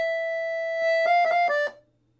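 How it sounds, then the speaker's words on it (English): Accordion plays a Moldavian-style trill in Balkan music, a sustained reedy note that breaks into a few quick, distinct ornamental pulses before stopping, close and solo. "But the Moldavian trill will sound like this."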